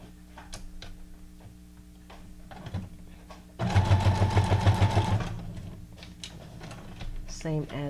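A home sewing machine runs a zigzag stitch while appliquéing a figure onto a handmade Christmas ephemera tag, giving a fast, close, rhythmic mechanical rattle for about a second and a half between quieter handling sounds.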